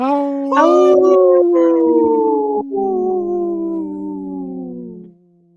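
A person imitates a wolf howl on a radio show, one long drawn-out wavering howl that rises and then slowly falls, loud and close, with a brief break partway through before it fades out.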